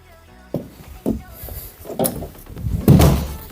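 A heavy door in an old Swedish school building being moved, giving several dull thuds and scraping knocks spread over a few seconds, with faint background sound between them.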